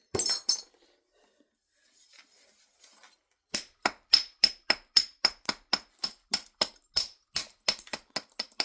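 Flint knapped with short, sharp strikes that trim flakes off a stone edge. After a few scattered taps comes a steady, close run of about fifteen crisp hits, evenly paced.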